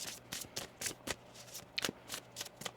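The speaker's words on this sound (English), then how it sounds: "One more shuffle here." Tarot cards being shuffled by hand, a quiet series of quick riffling, flicking bursts at an uneven rhythm, close and soft with no voices.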